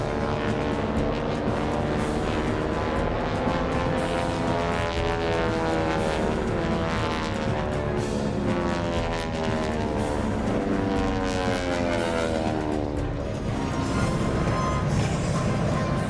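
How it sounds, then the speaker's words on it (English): Big Pratt & Whitney aircraft engines run continuously with a dense, steady droning roar and layered tonal whine, loud and unbroken for the whole stretch with no talking. "Sound history, those big Pratt & Whitney engines."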